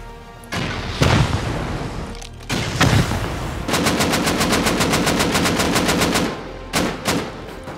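Video game gunfire and explosions: heavy booming blasts near the start, then a long rapid machine-gun burst of evenly spaced shots, followed by a couple of further bursts, loud and close.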